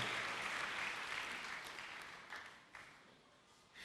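Church congregation applauding, a dense wash of clapping that starts loud and slowly tapers, with a few voices mixed in.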